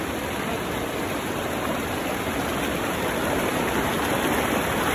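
Strong river current rushes in a constant, dense roar that stays loud and even throughout, heard at night beside the water while fishing in San Pablo City, Laguna, with no talking.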